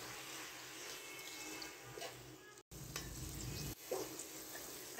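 Around 500 grams of green peas fry and get stirred in a pan for matar pulao, giving a steady, fairly quiet sizzle with occasional scraping stirs and a brief cut partway through.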